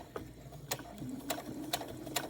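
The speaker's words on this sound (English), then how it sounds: "I'm getting to this part where I want to sew this piece down, the hanging piece" A sewing machine stitches down the hanging loop of a fabric Christmas tree ornament, a low soft mechanical hum broken by a few regular sharp clicks, close and fairly quiet.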